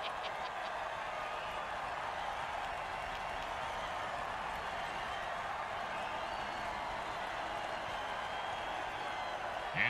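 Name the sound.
video game stadium crowd cheering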